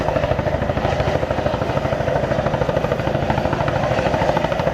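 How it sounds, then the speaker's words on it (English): Steady, rapid rotor thumping of a nearby helicopter at the NAS Oceana air show, loud and continuous with a pulsing beat and no voices. "And we got the helicopter back. Now the helicopter has been called in."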